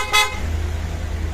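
A small snail horn fitted to a motorcycle gives one short, bright toot near the start, then a steady low idling hum carries on beneath it.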